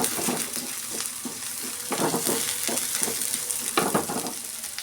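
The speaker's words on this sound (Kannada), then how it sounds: "ಸ್ವಲ್ಪ ಆಯಿಲಲ್ಲಿ ಚೆನ್ನಾಗಿ ಫ್ರೈ ಮಾಡ್ಕೊಂಬಿಡೋಣ" Poppy seeds fry in a little oil for okra sambar, a continuous close sizzle broken by repeated scraping strokes of a spoon stirring the pan.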